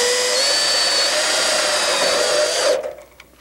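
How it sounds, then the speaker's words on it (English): Power drill driving screws into a dumbwaiter stop assembly during a house installation: a loud, steady high whine held close for nearly three seconds, then cutting off abruptly to a quiet tail, with no talking. "I'll go ahead and put in a couple of screws to attach this."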